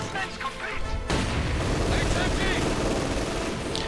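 Submachine gun fire in a World War II real-time strategy video game, bursts of distant gunfire and rattling shots starting abruptly about a second in and continuing under battle noise and a voice talking over it.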